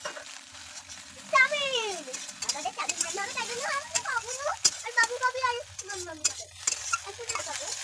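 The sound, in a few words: frying egg, onion and chilli for chowmein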